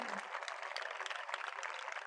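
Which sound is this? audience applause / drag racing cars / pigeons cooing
audience applause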